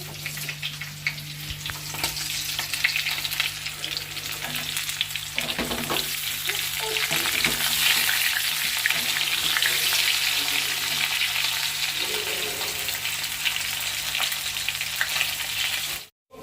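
Potatoes sizzle in hot oil in a home kitchen pan for aloo dum, a loud, continuous frying hiss with occasional stirring clatter, close by and without speech.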